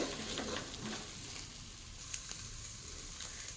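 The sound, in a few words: frying dal mixture in pan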